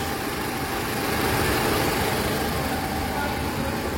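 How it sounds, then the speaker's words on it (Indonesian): A 2018 Toyota Alphard engine idles steadily after a water pump replacement, with a smooth, even low rumble, close and constant throughout the short stretch. "Suara mesin juga normal ya, halus"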